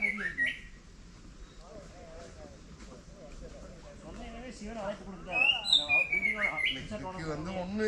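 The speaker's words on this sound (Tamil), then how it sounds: "இங்கே இருக்க ஒரு குருவி கத்துது ரொம்ப சூப்பராக இருக்குது" A small sparrow near the Sirumalai hill Shiva temple in Dindigul gives a few sharp, high chirps, loudest near the end, while someone talks over them.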